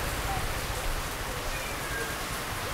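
Steady rain falls throughout, a soft, even hiss of drops spread across the whole stretch with no breaks or distinct impacts.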